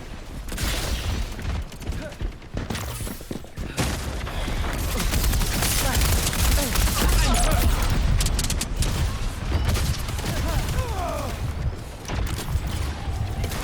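Sniper fire and battle noise in the video game Concord, a dense, loud wash of gunshots, booms and mechanical clatter with an in-game voice line over it.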